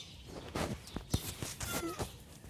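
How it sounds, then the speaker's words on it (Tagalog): A small kitten gives a few short, high meows between soft rustles and steps, close by and fairly quiet, with indoor background noise. "May little pusa."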